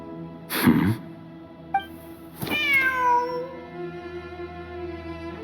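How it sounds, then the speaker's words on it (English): In Genshin Impact, a cat gives a clear, close, drawn-out meow that fades slowly, after a brief sneeze-like puff and a sharp tick, with no talking. "Wait, there it is! A cat!"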